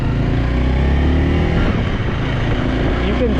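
A Honda Rebel 300 motorcycle revs and pulls away on a city road, its engine a loud, steady, close drone that holds throughout without pause.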